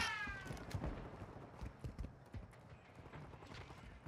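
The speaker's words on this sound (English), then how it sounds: "I hear footsteps." Quiet, regular footsteps tap out a steady walking rhythm, faint and slightly distant, continuing throughout without talk.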